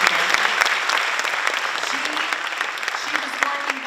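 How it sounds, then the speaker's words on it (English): Crowd applause at a Special Persons Day school event honoring a volunteer organizer, brisk and continuous clapping with cheering voices mixed in throughout. "let's give her a round of applause"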